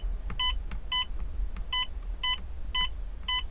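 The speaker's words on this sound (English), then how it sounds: "makes the cool beeping sound" Short, evenly spaced electronic beeps from a light dimmer in a Citroen Relay camper van, a steady series of bright tones repeating about twice a second over a low background hum.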